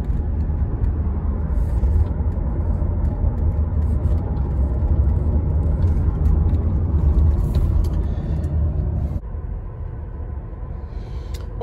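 A 2007 Toyota Camry hybrid rolls downhill, its steady interior road rumble and tire roar filling the cabin before dropping to a softer hum near the end.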